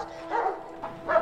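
Dogs barking in a scene from The Terminator film, three short barks close together in quick succession over a faint background hum.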